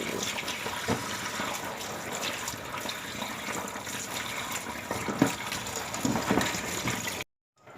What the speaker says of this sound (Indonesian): kita mencuci pun ini untuk mengurangi rasa asinnya, karena ini ikan bilis asin ya